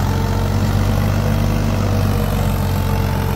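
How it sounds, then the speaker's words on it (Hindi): Mahindra 275 DI XP Plus tractor with M-Tech hydraulics running steadily nearby, a loud, constant low diesel drone with an even throb and no change in pitch. "नया महिंद्रा का 275 DI XP plus M take hydraulic के साथ में"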